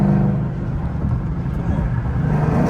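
A Dodge Charger R/T engine drops through a downshift, a steady low rumble that surges and shifts in pitch, loud and close throughout.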